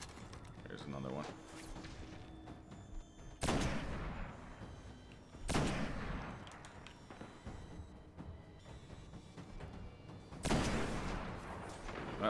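Gunfire from the video game Destiny, with several sharp, loud shots spaced a few seconds apart. Between the shots, lighter game sounds continue underneath.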